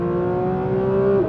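Porsche 911 GT3 engine revving hard and close, a steady high-pitched wail that holds and rises slightly before dropping off abruptly at the end, with no talk over it.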